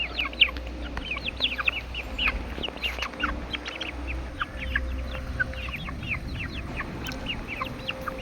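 Many chickens and chicks chirp and cluck together in a busy, continuous chatter over a low hum, with a few louder calls standing out up close.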